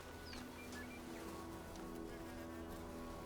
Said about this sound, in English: I hear mosquitoes.